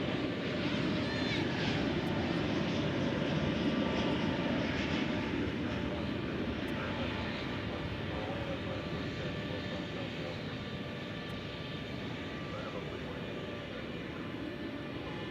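Engines of the Speedbird 193 Heavy airliner roar as a continuous broad rumble at the DFW International Airport, steady and fairly distant, with a slight fade toward the end and no clear talk.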